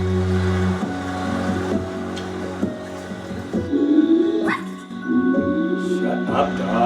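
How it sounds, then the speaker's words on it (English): A dog barks repeatedly inside the game I Am Dead, sharp yips rising over a steady low ambient hum, with a player's voice talking over parts of it. "Shut up, dog."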